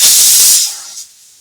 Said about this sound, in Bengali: একটা সিটি পড়েছে, আমি দুটো সিটি মেরে বন্ধ করে দেবো।